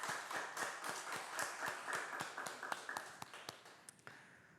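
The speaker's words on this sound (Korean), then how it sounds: "우리 하나님 앞에 영광의 박수 올려드립시다" A church congregation claps together in a rhythmic, fairly even beat of many hands, moderately loud in a large room, thinning out and ending near the close.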